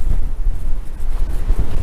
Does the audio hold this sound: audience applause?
no